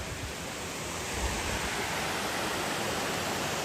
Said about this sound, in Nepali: कति राम्रो खोला छ यार बाँध बाँधेर झर्ना जस्तै बनाएर राखेको छ